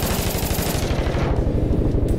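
Rapid automatic gunfire in a multiplayer shooter video game, loud, dense bursts filling the whole moment with no talk over it.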